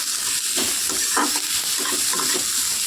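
Tomato and two green chilies frying in a pan with already-fried spices, a constant sizzling hiss broken by repeated scraping stirs of a spatula, close and fairly loud with no voices.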